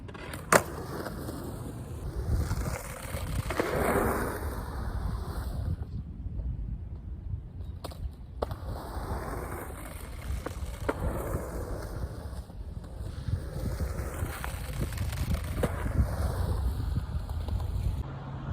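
A skateboard rolls along pavement as the rider practises the steps for a ghost flip, stepping off and hopping back on. A continuous rolling rumble with wind-like hiss runs throughout, broken by a few sharp clicks and board knocks.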